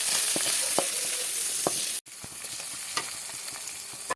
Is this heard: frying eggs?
yes